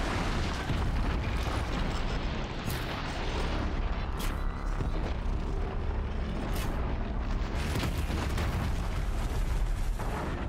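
Thunderjaw disc launchers detonate in Horizon Zero Dawn, a dense, continuous roar of loud blasts and rumbling booms filling the whole stretch with no letup.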